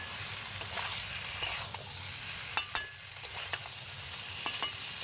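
Ground spice paste sautéed in a pan for a catla fish curry with ridge gourd, a continuous close sizzle with scattered sharp spatula scrapes and clicks, no voices.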